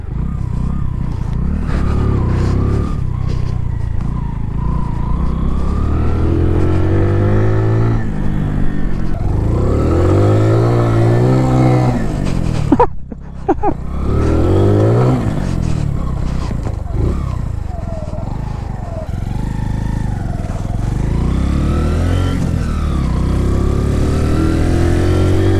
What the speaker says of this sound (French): J'ai une petite sonorité d'échappement.